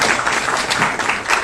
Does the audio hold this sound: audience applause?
yes